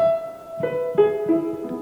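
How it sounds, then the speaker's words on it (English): A few soft, muffled piano notes ring out one after another, each sustained and washed in a long, roomy reverb tail. "slightly muffled upright piano sounds with a lot of reverb on it."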